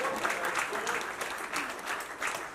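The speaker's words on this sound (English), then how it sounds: "Clap for God, actually." An audience at a CPR and choking first-aid awareness session applauds. The clapping is soft and continuous and sounds somewhat distant, with the crowd's patter swelling slightly in waves.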